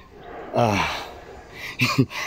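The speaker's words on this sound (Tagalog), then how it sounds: "Hingal ako, sobrang taas." Heavy, labored breathing from someone winded after climbing many steps up a mountain: a long ragged exhale, then two sharp, quick gasps close to the mic.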